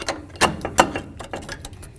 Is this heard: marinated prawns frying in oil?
no